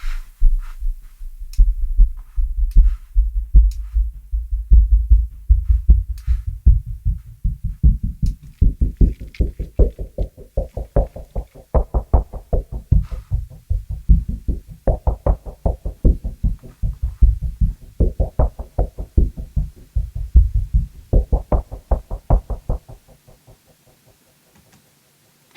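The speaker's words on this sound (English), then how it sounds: "In this case, I used Dark Horizon to create this rhythmic pulse." A rhythmic bass pulse from the Dark Horizon synthesis-based bass instrument, deep and heavy, throbbing in steady repeated beats like a heartbeat, with swelling low tones that rise and fade in waves, played alone and ending near the close.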